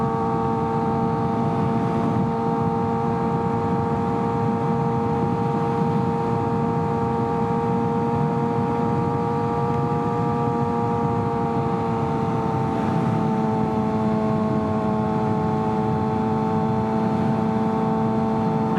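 Motorcycle engine while riding, a steady droning hum with a constant tonal whine, close and loud with wind rush, holding nearly unchanged throughout with only slight shifts in pitch.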